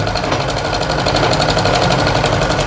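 A sewing machine stitches piping onto a blouse at speed, making a loud, close, rapid mechanical rattle that holds an even rhythm.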